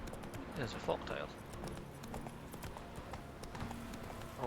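A horse's hooves clop along in The Witcher 3's Skellige, a short run of even game footfalls mixed with background music and ambience, while someone speaks over the top.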